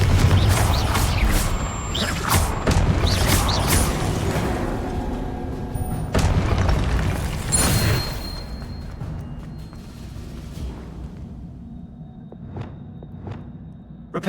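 Confringo fire spell blasts in Hogwarts Legacy, a series of sharp booming impacts with crackling debris, loud in the first half and then fading into quieter clatter and scattered thuds.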